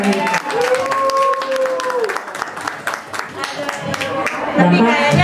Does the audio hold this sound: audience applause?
yes